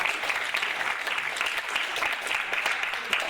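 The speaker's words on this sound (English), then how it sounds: "Round of applause for that." Steady audience applause at a student comedy panel show, a dense continuous wash of many hands clapping together, loud and unbroken for several seconds.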